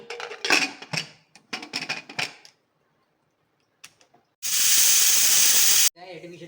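A pressure cooker on the stove cooking coconut rice lets out a loud, sustained steam whistle lasting over a second, preceded by scattered clinks and short hissing bursts, close by.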